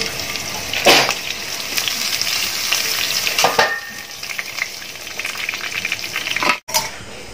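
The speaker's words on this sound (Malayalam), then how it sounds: "ഇതുപോലെ ഇനി നമുക്ക് ചിക്കൻ ഓരോന്ന് ഓരോന്നായിട്ട് ഫ്രൈ ചെയ്തെടുക്കാം" Chicken pieces sizzle steadily in hot oil for a chicken masala, with a loud, continuous frying hiss and occasional stirring and clattering close by.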